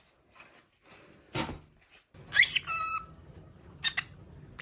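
A pet bird at home gives short, sharp squawks and whistly chirps in scattered bursts amid quiet room noise and a few clattering handling sounds.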